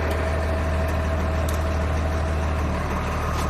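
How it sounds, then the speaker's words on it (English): A 1994 Chevy Kodiak wrecker's diesel engine idles with a steady low rumble, its pitch shifting slightly as the idle speed changes when the intake heater cycles; no one speaks. "Oh, there goes the intake heater. You can hear the change in the speed."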